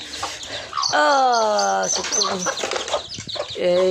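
Native village chickens cluck and chirp close by, a hen with chicks, with a few drawn-out calls among quick, busy peeps from a small flock.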